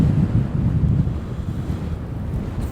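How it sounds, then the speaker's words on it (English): Steady, rough wind buffeting a drone's microphone near Anfield stadium in Liverpool, a constant low rumbling roar with no voices, running the whole way through. "Very windy."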